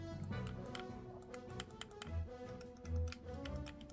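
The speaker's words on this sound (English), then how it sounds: "press the buttons and hear that satisfying click" Rapid, crisp clicking of a Nyxi Warrior GameCube-style controller's buttons being pressed in quick succession, close up, with low muffled thumps underneath.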